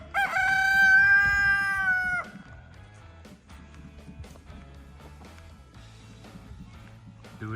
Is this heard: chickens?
yes